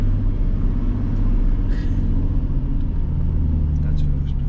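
A car crawls slowly in first gear along Andersons Track in Bunyip State Park, Tonimbuk, Victoria, its engine a steady low rumble throughout with a faint voice now and then.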